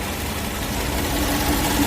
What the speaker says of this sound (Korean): 엔진 소리도 조용합니다